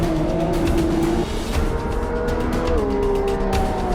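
A race car brakes into turn 1 at Sebring in Automobilista 2, its engine droning loudly and steadily with pitch dropping as it slows, over constant road and tyre noise.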